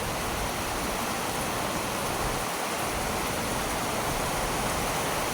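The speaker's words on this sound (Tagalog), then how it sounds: "It's raining." Rain falls steadily and evenly throughout, a dense broadband hiss like a heavy downpour on surfaces close by, with no voices.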